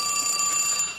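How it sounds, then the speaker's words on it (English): A telephone rings with a bright, sustained electronic tone that sounds alone and fairly loud for about a second before cutting off. "Oh, listen, that's my phone."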